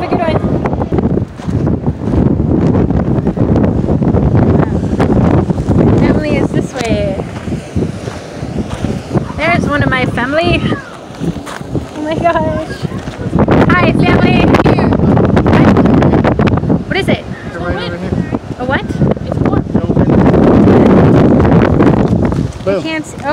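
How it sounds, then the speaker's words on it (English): Strong wind buffets the microphone on the Oregon coast near the Coquille River Lighthouse, a loud continuous roar with gusts, while people talk intermittently through it. "Super windy out here."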